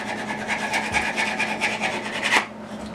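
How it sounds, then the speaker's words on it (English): A wooden dowel edge being beveled by hand with 60 grit sandpaper: quick repeated close rasping strokes in a steady back-and-forth rhythm, stopping abruptly near the end. "So I've got the 60 grit, and I'm just going over and creating like a slight bevel all the way around each"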